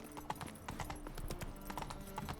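Roach, a horse in The Witcher 3, trots with steady, fairly quiet clip-clop hoofbeats in a rapid even rhythm, with no talking.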